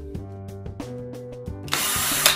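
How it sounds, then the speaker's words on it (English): A power drill drives into wood for a small catapult build, opening with a few short stuttering motor bursts before settling into a loud continuous whine of the bit biting through the wood. "Let the drill drive itself in."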